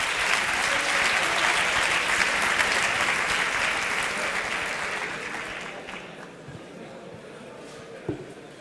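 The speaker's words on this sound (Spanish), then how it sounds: "Dale un aplauso" Audience clapping at a student session of a cybersecurity conference: a dense burst of applause that fades over several seconds, ending with scattered claps and faint murmuring.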